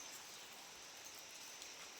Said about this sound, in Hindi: और सुबह से लगी आज बारिश